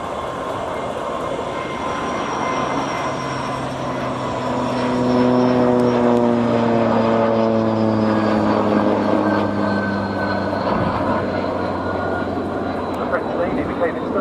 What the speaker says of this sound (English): the MS760 Paris, leads the formation through once again